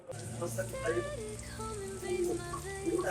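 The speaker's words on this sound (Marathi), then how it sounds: "जोरात पाऊस चालू आहे." Heavy rain pours steadily near the hills outside Ambernath, a dense continuous hiss with pattering, while a voice speaks over it.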